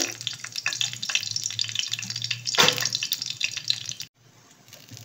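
Cumin seeds and dried red chilli sizzle in hot oil in a pan, making a continuous crackling hiss that stops abruptly near the end.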